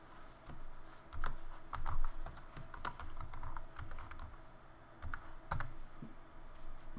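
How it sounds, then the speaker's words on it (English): Rapid, uneven clicks of fingers typing on a computer keyboard, fairly close and quiet, in short bursts with brief pauses. "start typing the name,"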